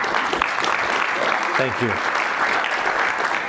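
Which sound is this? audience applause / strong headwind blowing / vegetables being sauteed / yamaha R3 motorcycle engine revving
audience applause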